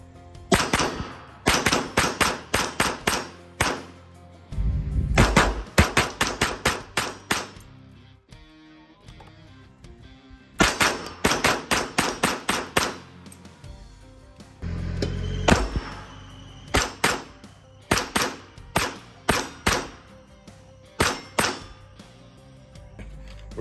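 Rapid strings of loud, sharp gunshots from a Grand Power K22 X-Trim pistol firing standard velocity 40 grain ammunition on a range, fired in several quick bursts separated by short pauses.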